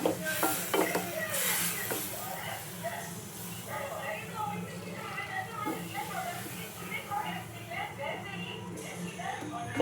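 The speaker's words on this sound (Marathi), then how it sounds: "खीर आता व्यवस्थित अशी मिक्स करून घ्यायची आहे बघा" Vermicelli kheer with hot milk is stirred in a pot, with soft, irregular scraping and sloshing at close range under ongoing talk.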